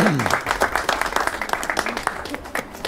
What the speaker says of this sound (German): Applaus ein bisschen für Ammo